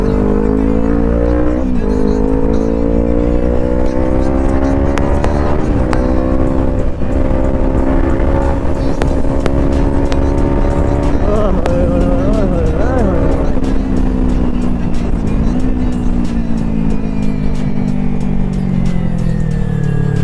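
A motorbike ridden fast on a city road around Chandigarh, its engine droning loud and close throughout with rising and falling revs, under steady wind noise and occasional talk.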